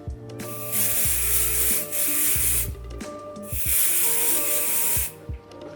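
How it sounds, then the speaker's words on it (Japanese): Hard-hold hairspray hissing onto hair in two long, loud bursts, each lasting about a second and a half with a short pause between, close to the can. "ハードスプレーです。 空気を入れる感じでスプレーをしたいので、落としながらスプレーしていきます。"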